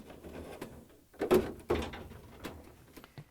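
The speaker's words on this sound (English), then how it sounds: "The only difference is that I will lift up on the lever. And I'm going to push the rail back." An LG refrigerator freezer drawer rail is pushed back along its track. It gives a couple of soft, close sliding clunks in a quiet room.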